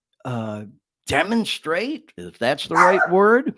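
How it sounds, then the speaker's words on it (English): A pet dog indoors lets out a short, close bark-like yelp at someone outside, then a person talks over the following seconds. "Sorry, y'all, that's my dog."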